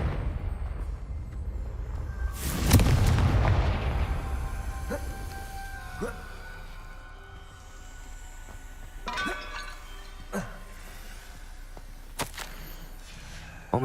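Hogwarts Legacy's Confringo blasting spell sets off a loud, close explosion with a whooshing burst, followed by scattered crackles, clinks and smaller impacts as the debris settles.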